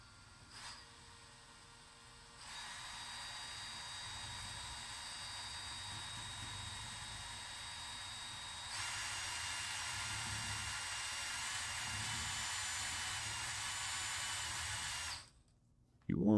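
Electric drill fitted with a paddle spins up to stir a can of contact cement, a steady close whine that jumps louder partway through and runs continuously before cutting off abruptly at the end.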